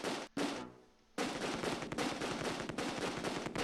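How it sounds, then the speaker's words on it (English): Covering fire pours into a building in the WWII strategy game Close Combat II at Nijmegen Bridge, loud sustained machine-gun bursts with a brief pause, then continuous rapid gunfire. "We just fire some covering fire into that building."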